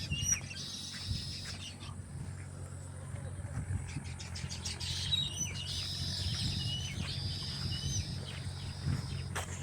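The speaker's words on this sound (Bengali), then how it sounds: "এই যে তাল গাছ তাদের উপরে দেখতেছেন, পাখিগুলা কিচির মিচির" Birds in palm trees along a village embankment in Bangladesh give repeated high chirping bursts, fairly close, over a low steady background hum.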